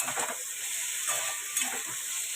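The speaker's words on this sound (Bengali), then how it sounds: "বেগুনটা ভেজে তুলে রেখে তারপর নিম পাতাটা ভাজবো" Eggplant frying in hot oil with neem leaves to follow, a steady close bright sizzle with faint stirring textures, no voices.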